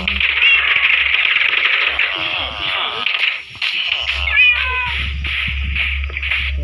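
Cat meows from the Minecraft video game, several short tonal mews over background game music and noise, with a person talking in between.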